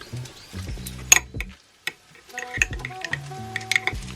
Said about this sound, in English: put some of the lime zest in there, mix it up